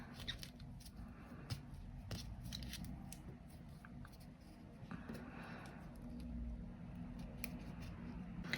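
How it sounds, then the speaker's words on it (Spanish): Scissors snipping yarn on a crochet basketball keychain, a few faint quick clicks and rustles of handling, close and quiet with no talking. "cortamos y jalamos el hilo"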